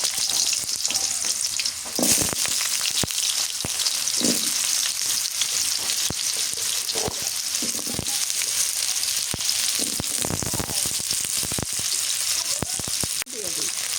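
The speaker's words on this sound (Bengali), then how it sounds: "তেলের মধ্যে দিই আলু।" Potatoes frying in oil in a village kitchen, a loud continuous hiss and crackle with intermittent stirring scrapes, close by, with no voices.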